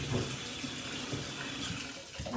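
Water mixed with vinegar runs steadily into a water tank holding a brass horn, a continuous close splashing and rushing stream with no pauses.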